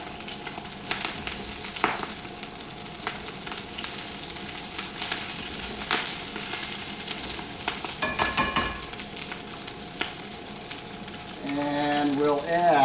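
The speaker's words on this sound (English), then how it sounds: "You'll hear that sizzling right away." Seafood and chicken sizzle steadily in a hot stir-fry pan, a dense, close hiss with occasional scrapes and a brief clatter near the end, and no voices.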